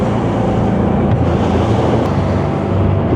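An MV 950 maxi-RIB, a 10 m Scanner Envy 950, turns at speed on rough sea. A steady, dense roar of wind buffeting and rushing water fills the scene with no voices.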